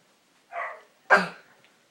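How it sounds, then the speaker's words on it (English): Two short barks from a dog, close by, separated by a brief pause, with quiet surroundings. "I even got the dog barking."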